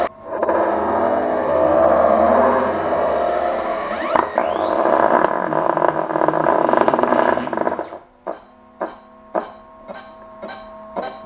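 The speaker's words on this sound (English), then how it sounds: "So now I've got A motor on A on the correct place. We'll see the rotation. Can we take off?" Parrot Bebop 2 drone motors spinning up for takeoff after a motor swap: a loud, close whirring roar with a rising whine that cuts off abruptly, followed by a row of evenly spaced short electronic beeps.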